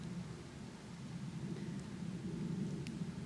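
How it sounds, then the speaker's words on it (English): A soft, steady rolling rumble with a low bubbling hiss of water boiling in a pot for coffee, outdoors in a forest, continues faintly throughout. "And that's the sound of boiling water for the coffee."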